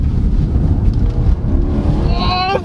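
A 2022 BMW 730i in sport mode accelerates, a loud rumbling engine and road roar from inside the cabin with a rising whine toward the end.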